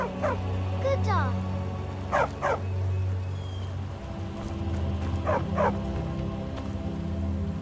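A dog barking in the video game Skyrim: several short barks in bursts over a steady ambient game background, with rain-like hiss underneath.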